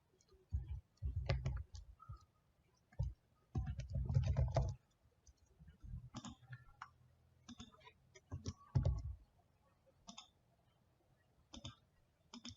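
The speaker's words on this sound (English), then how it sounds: "I'm just going to type in my email." Fingers type on a computer keyboard close by, clacking in irregular bursts. Quick runs of keystrokes alternate with brief pauses, and a few louder taps stand out. No one speaks.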